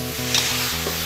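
Food sizzles steadily in a pan with onion, water and a little sugar while a utensil stirs and scoops through it, a soft scrape standing out briefly over the continuous frying hiss.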